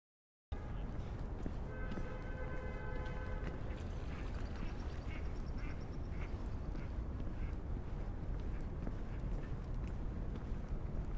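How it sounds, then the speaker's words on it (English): Ducks quack in short bursts over steady outdoor city noise near Central Park in Manhattan, New York, with a harmonic honking stretch early on and scattered calls throughout. "these ducks fly fast"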